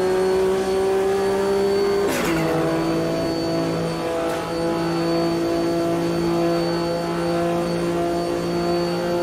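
Sportscar race car engines in the racing game Automobilista 2 during a World Sportscar Championship race, a loud continuous tonal engine drone that holds steady with a brief gear-shift drop in pitch and faint cars nearby, no talking.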